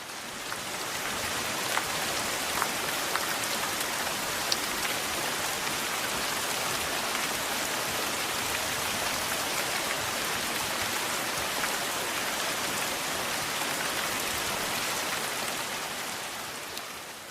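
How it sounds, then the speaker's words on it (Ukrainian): Steady, even rain falls continuously, a dense hiss of drops with no pauses and no voices. "різні звуки природи, наприклад, шум дощу"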